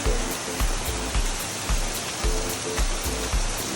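Heavy rain pours steadily onto a beach in Siargao during a storm, a dense wash of falling water with low rhythmic thumps beneath it, while a person briefly speaks over the downpour.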